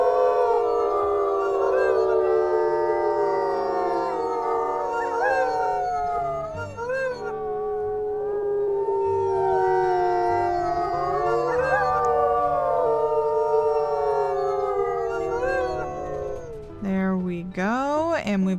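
Wolf howls in a wolf-pack survival video game, long rising and falling wavering tones layered in a loud chorus that continues for many seconds, ending with a sharp yelping burst, with no talk over it.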